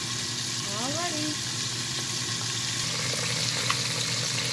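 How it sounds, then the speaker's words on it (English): Catfish nuggets deep frying in hot oil, a steady even sizzle and crackle running throughout, with a faint background tone and a brief clink near the end. "because I'm doing this in my deep fry, you don't really have to flip this"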